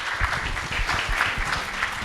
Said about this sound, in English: please join me, ladies and gentlemen, giving our distinguished panel speakers a round of applause